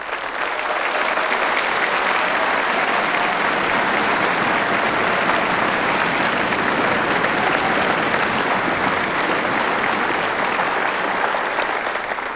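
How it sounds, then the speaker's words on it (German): An audience at a Musikantenstadl folk music show in Freistadt in 1992 gives sustained applause, a dense, even wash of clapping that stays loud and steady throughout. "Jetzt ist es Ihr Applaus."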